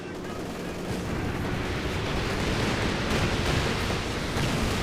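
A strafing run in Company of Heroes 2 roars as dense, sustained gunfire and rumbling explosions blended into a continuous wall of battle noise, loud and unbroken for several seconds.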